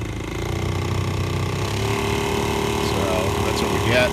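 A 2005 Scion tC's faulty ventilation blower motor fan runs steadily with a continuous hum and a whirring drone throughout, with no talking.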